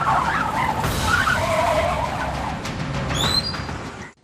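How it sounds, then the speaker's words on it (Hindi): A car's tires screech in a long, loud skid as it overtakes a motorbike, the harsh squeal running over road noise before abruptly fading out. "अचानक से एक कार ने मेरी बाइक को ओवरटेक किया।"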